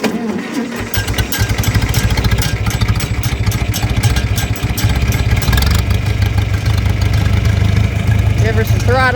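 A second-hand farm tractor's engine cranks and catches, then settles into a loud, steady rumbling idle close by, with a voice briefly audible over it.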